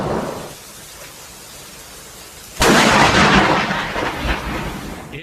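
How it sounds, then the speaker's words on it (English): A nearby lightning strike sets off a sudden, loud crack of thunder that cuts in abruptly and then rumbles on heavily with no voices. "Lightning strike right in front of me."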